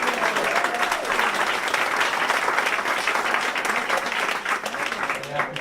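A church congregation bursts into sustained applause at a service, dense clapping that fills the space evenly at full strength before tapering slightly near the end.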